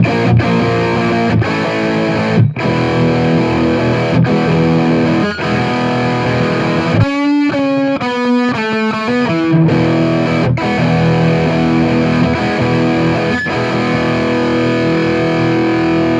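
Heavily distorted electric guitar through a Bogner Ecstasy Mini 30W high-gain tube amp head plays sustained chords and riffs, loud and continuous, with a brief choppy muted passage midway.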